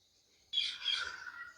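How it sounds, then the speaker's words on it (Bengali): Forpus parrotlets, caged farm-bred local birds, give a short burst of high, thin chirps that start abruptly after a moment of near silence and carry on briefly at moderate volume. "আপনারা দেখতেছেন ফরপাস পাখি"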